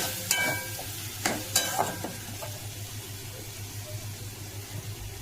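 Tomato and ginger fry together in a pan with refined oil, a soft continuous sizzle under a few sharp scraping stirs near the start, close but fairly quiet, no speech.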